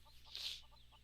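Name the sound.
hen clucking in the video game Mabinogi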